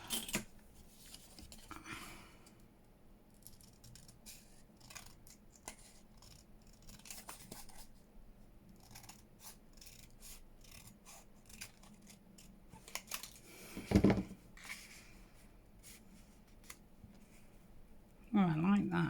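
Scissors snipping paper for a mini matchbook notepad craft, a series of close, soft crisp cuts with scattered handling noises, briefly louder rustles near the middle and end, with no talking.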